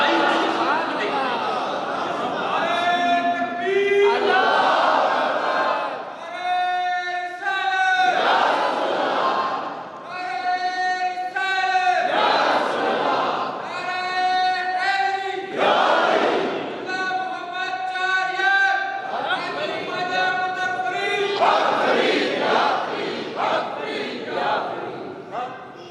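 A large crowd chants a revolutionary Islamic slogan in unison at a religious gathering, loud massed voices rising and falling in repeated rhythmic bursts across the whole stretch.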